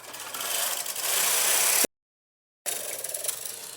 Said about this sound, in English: I also put my carriage into hold. And I'm going to just knit 1 row.